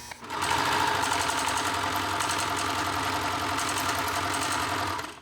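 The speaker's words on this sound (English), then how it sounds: "to get it out of the machine, you actually have to sew a little bit" Sewing machine stitching a short run to free the threads, starting abruptly and running in a fast, steady, close mechanical whir with rapid needle ticks for about five seconds before stopping.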